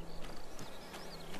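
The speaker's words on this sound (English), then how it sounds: "Hey, look, horses!" Horses walking in the medieval adventure game A Plague Tale: Innocence, with steady clip-clop hoofbeats at moderate distance over a low ambient hum, and no talking.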